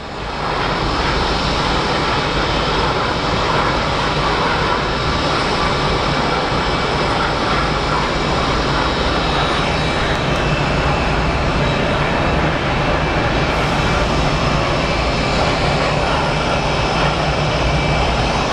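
An American Airlines airliner at Phoenix Sky Harbor Airport gives off a loud, steady engine roar that holds unbroken for the whole stretch, with no voices.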